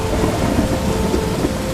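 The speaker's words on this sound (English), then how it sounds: "the rain soaked his clothes and the wind blew fiercely around him" Steady heavy rain pours with a thunderstorm rumbling beneath it, a dense, continuous and loud wash of sound with no voices.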